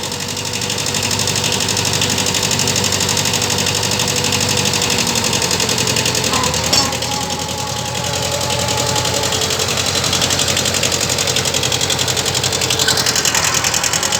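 A small tractor engine runs steadily in second gear, a loud, close, rhythmic chugging drone with a constant mechanical clatter and no talk.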